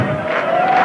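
Football fans in the grandstand along a stadium straight cheer as a crowd during a 1975 Perugia match, a steady continuous roar of many voices heard from a distance, with a faint tone running through it.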